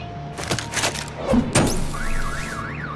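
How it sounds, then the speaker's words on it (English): In the Batman video game, a car alarm is set off by a bat stunner: a few thuds followed by a rising and falling electronic alarm tone. "My bat stunner would set off the car alarm."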